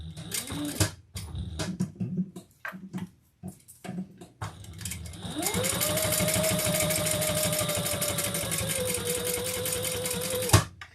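A sewing machine sewing a handbag gives a few short, choppy bursts of stitching, then settles into one long, loud, steady run that stops abruptly near the end.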